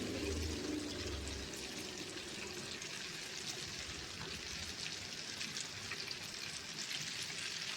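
Eggs frying in plenty of oil in a pan, a steady close sizzle with fine crackling throughout and no talk.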